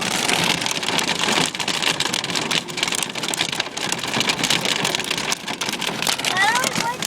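Heavy hail pelting down during a 2011 storm in Tosa, a dense, loud, continuous hiss and clatter of ice striking surfaces all around, with voices talking beneath it.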